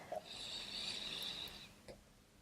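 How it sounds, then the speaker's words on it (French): A woman with a head cold breathes through a congested nose during a gentle yoga session. One soft, drawn-out rasping inhale is followed by a faint snuffle, quiet and close, with no talking. "vous excuserez ma respiration, je suis un peu enrhumée, donc j'ai du mal à respirer par le nez"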